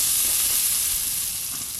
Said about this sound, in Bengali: এই যে কালো জিরে আদা শুকনো লঙ্কায় তেলটাই ভালো করে ভাজা হয়ে গেছে।